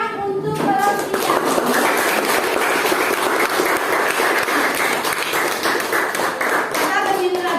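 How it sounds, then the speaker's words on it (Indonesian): A classroom full of schoolchildren clapping steadily and loudly for several seconds, with excited voices mixed into the applause. "Tepuk tangan untuk kelas kita."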